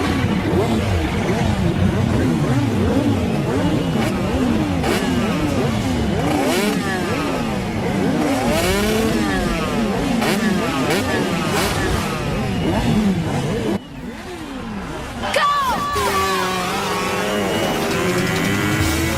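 A motorcycle revs and roars while its rider lifts the front wheel at a crowded betting race, the engine note rising and falling continuously under loud crowd noise and chatter, with a brief dip near the end.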